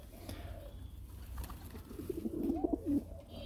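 Pigeons coo in a short run of soft, throaty notes near the end, over a low background rumble.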